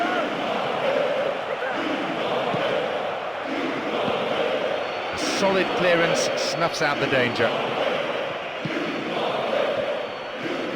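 Continuous stadium crowd roar from the PES 2009 football video game, a steady wall of cheering and chanting that runs beneath a commentator's voice for the whole stretch.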